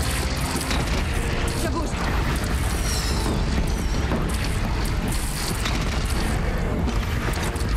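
Heavy cannon blasts in the video game Horizon Zero Dawn, a dense, continuous roar of booms and mechanical clatter with no clear gaps, loud and close throughout.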